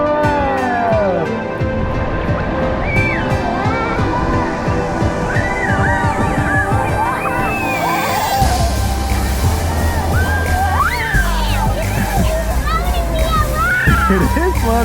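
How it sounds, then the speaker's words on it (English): Wave pool water sloshing and splashing in a summer water park, steady and close, with children shouting and a crowd babbling throughout; a deeper rumble joins partway through. "The waves are on now."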